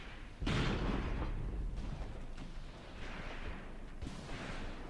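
Mortar and artillery fire in the WWII tactical game Graviteam Tactics, a heavy booming blast at the start followed by continuous rumbling battle noise and a later thud, loud and dense with no talking.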